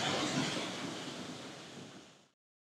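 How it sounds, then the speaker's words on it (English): Steady broadband roar of a waterfall at Mount Tamborine, Queensland, loud and continuous like rushing surf, holding level before cutting off abruptly. "But this is a nice waterfall."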